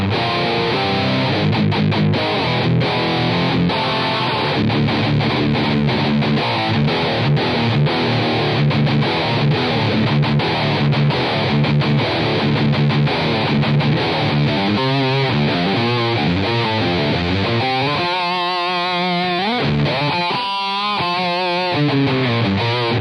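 A high-gain electric guitar tone from the Fangs pedal with the free amp in AmpliTube 5: a sustained stretch of dense distorted riffing and ringing chords, loud and steady, ending in bending lead notes with no voices.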